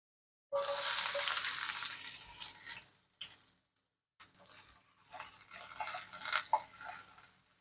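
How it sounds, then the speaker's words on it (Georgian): Vegetables for ajapsandali hit a hot pan and sizzle loudly at once, the frying hiss fading, then resuming with stirring scrapes and crackles, close and without talk. "დრო მოვიდა რომ დავიწყოთ ბოსტნეულის მოთუშვა"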